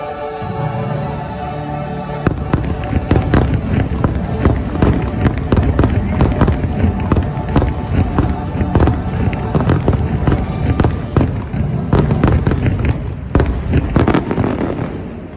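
The Happily Ever After fireworks show at Disney World, seen from Top of the World, brings a dense, continuous run of booming bursts and crackles. Crowd noise sits under the explosions throughout.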